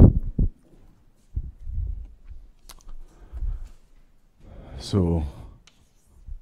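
Chalk or marker writing on a board during a math lecture, soft intermittent scratches and taps, fairly close, with someone briefly speaking near the end.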